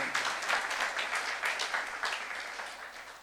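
A church youth congregation claps during a sermon in short, rhythmic bursts of fairly loud applause that tapers off toward the end, with no speech.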